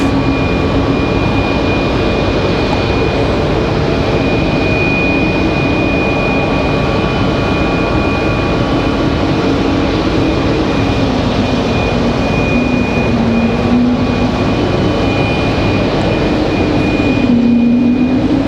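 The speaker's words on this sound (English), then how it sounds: "That A220 sings its way up the hill there." An Airbus A220 climbs out after takeoff from Raleigh-Durham International, a loud sustained roar with a steady high whine and a slowly shifting engine tone, heard alone throughout.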